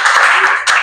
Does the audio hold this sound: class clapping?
yes